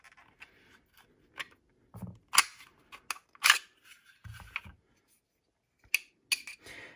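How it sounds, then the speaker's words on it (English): Sharp metallic clicks and slides from disassembling an HK USP Expert pistol, a sparse series of close, crisp snaps and clacks separated by brief silences, with no one speaking. "So we will disassemble the gun."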